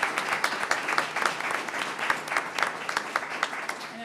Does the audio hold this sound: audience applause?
yes